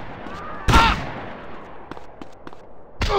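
A shotgun blast in GTA San Andreas, one loud, sharp boom that fades out, with a second blast starting at the very end over a low game background.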